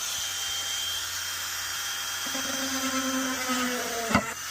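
A small drill runs steadily on a Tesla Model S during a daytime running light repair, giving a continuous high whir, with a brief rising tone partway through and a sharp tap near the end.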